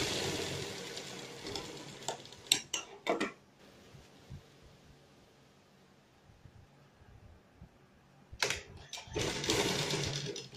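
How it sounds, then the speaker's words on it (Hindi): Sewing machine stitching beneath the buckram on a patiala salwar, a burst of running stitches at the start, a few short clicks, a long quiet stretch, then the machine whirring again toward the end. "अब हम बुकरम के नीचे सिलाई लगाएंगे।"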